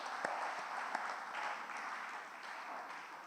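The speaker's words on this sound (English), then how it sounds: "Please join me to give a big applause to all of them." An audience applauds awardees at a school excellence award ceremony in a hall, with steady, dense clapping throughout and no break.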